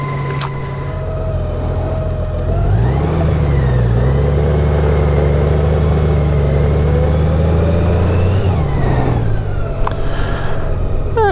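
Motorcycle engine idling and then revving up through a rising pitch, holding a steady run before dropping back, loud and close with road noise on a warm-day ride.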